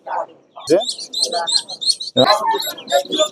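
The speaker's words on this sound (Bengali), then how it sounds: "দিশি হাঁসের বাচ্চা রয়েছে দশ দিনের" Ten-day-old native ducklings at a hen and duck market in Sarisha, South 24 Parganas, give rapid high chirps in busy clusters, close by and mixed with low market voices.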